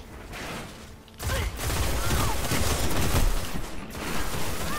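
Pulse rifle gunfire in the video game Destiny, a dense, sustained crackle of rapid shots and mechanical clatter that starts abruptly after a quieter moment and holds loud and steady with no talking.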